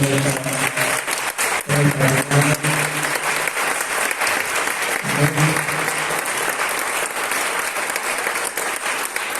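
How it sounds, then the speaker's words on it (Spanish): A church congregation applauds loudly and steadily at a Spanish-language worship service, with dense clapping throughout and a low hum or voice underneath in places. "Dale un fuerte aplauso al Señor."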